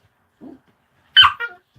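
A dog gives a soft whine, then a sharp close yip followed by a shorter bark while two dogs, one a puppy, play, with brief quiet between.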